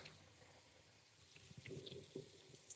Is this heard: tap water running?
yes